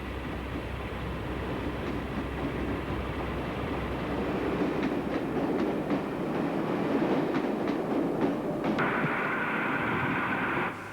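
A Western class diesel-hydraulic locomotive tows a train of old units past, giving a steady loud rumble with rhythmic clickety-clack of wheels over rail joints that fades near the end.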